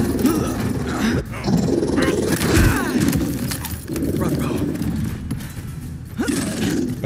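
A robot dog growls and snarls in Spider-Man 2 on PS5, rough guttural rumbles in several bursts at moderate loudness, mixed with game effects and a voice talking over parts of it.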